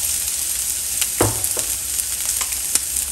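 Onion frying in a splash of oil in a pan sizzles steadily and close by, with a brief louder crackle and a few stirring scrapes, and no one speaking.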